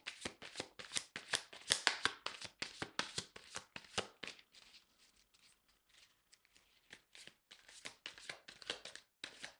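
Tarot cards shuffled by hand at close range in rapid, crisp riffling bursts, pausing for a few quiet seconds with light handling before the brisk shuffling resumes.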